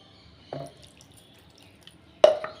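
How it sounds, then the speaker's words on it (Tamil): Water goes little by little into Mysore bonda batter, heard as two distinct, close liquid drips or splashes, the second louder, against an otherwise quiet background. "இப்போ கொஞ்சம் கொஞ்சமாக தண்ணி ஊற்றிட்டு பிசைஞ்சிக்கலாம்"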